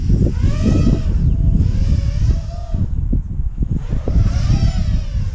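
An Eachine Tyro 99 quadcopter drone lifts off and hovers nearby, a loud, steady propeller whine with rising and falling pitch and gusty wind-like buffeting, no voices.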